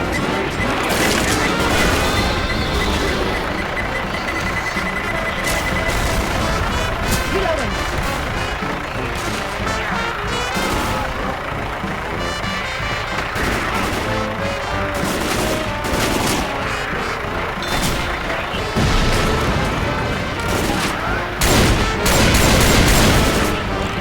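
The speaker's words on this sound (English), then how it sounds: "Pipe bomb out!" Chaotic Left 4 Dead 2 gameplay at a fall festival setting, with a pipe bomb blast buried in dense, loud gunfire, crashes and booms running throughout, and voices talking over the din.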